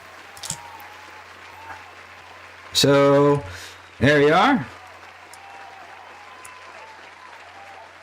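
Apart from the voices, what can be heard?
applause welcoming a guest on a live show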